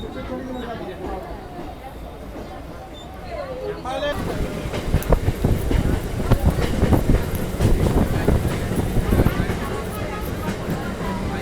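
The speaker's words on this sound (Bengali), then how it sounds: "3:50 আমাদের ট্রেন ছেড়ে দিল।" A local train in Hooghly pulling out and gathering speed, its rumble and clatter swelling loud from about four seconds onward, with people talking over it.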